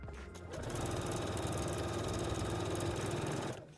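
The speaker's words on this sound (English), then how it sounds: "And we're gonna go sew it to the side seam of the pants." A sewing machine stitches the side seam of a pair of pants. It runs as a fast, even mechanical whir for about three seconds, close and steady, with a brief start-up and a quick stop.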